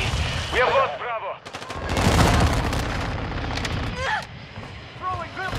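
Video game firefight with dense bursts of automatic gunfire and booming shots, radio-style voice callouts and chirping effects over the top, loud and continuous throughout.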